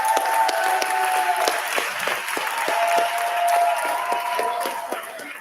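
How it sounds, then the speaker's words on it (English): An audience at a live company social event in a grand hall breaks into sustained applause, many hands clapping steadily for several seconds, loud and fairly close, tapering slightly at the end. "Give them a round of applause."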